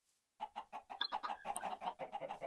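Chickens cluck in a Minecraft chicken farm in the video game, a quick run of about a dozen rhythmic, close clucks following a brief silence, with no talking.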